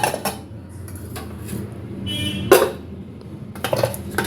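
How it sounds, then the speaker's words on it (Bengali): Lids placed over dishes of food in a home kitchen, with several light metallic clinks and clatters of pots and utensils scattered through the clip, close by with no talk. "চলো, এগুলো ঢাকা চাপা দিয়ে যাই, নাহলে কিছু করতে পারে।"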